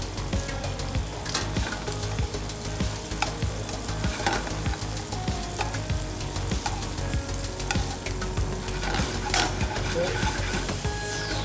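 Shrimp sizzle steadily in olive oil in a pan, with steady frying crackle, stirring scrapes and occasional utensil clinks; a voice briefly speaks.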